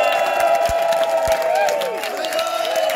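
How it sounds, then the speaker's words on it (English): A festival crowd in a tent at an outdoor solar-powered music stage cheers and claps for the sound crew, a steady wash of applause with a few whoops rising above it. "Can we have a round of applause for Conjurer and Jason on the sound"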